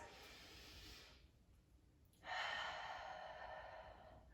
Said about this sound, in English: we're gonna take a couple deep breaths